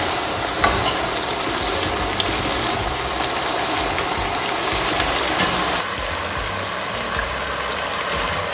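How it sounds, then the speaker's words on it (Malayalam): Meat, chicken among it, fries in a pan with a steady, loud broadband sizzle and occasional stirring, while a low engine-like rumble runs underneath, easing slightly after about six seconds. "ഞാൻ തൽക്കാലം ഇപ്പം ഇറച്ചി പൊരിക്കുകയാണ്."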